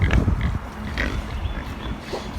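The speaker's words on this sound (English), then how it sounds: "These pigs are the ultimate recyclers." Pigs on a farm grunt and oink close by in a few short, irregular bursts, loudest at the start, with no one speaking.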